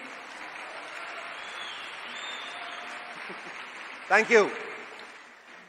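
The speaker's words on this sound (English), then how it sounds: "Can we have a huge round of applause for the Ola Electric team?" A crowd at an Ola Electric bike launch event applauds the company team with steady, moderate clapping. Someone speaks briefly near the end, over the applause.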